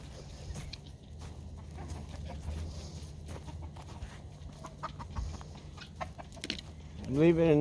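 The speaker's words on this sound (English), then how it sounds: "Let's go see the chicken." Chickens cluck at a farm in a steady, moderately close murmur of low calls, with a brief rising vocal burst near the end.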